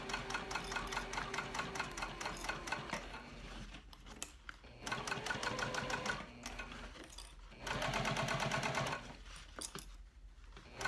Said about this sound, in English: So I'm just going to stitch and follow the curve.